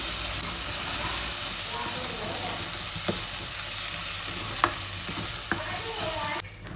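Ground masala paste fries in oil in a pan, a steady close sizzle and hiss with a few sharp clicks of a spoon stirring, and a slight drop near the end.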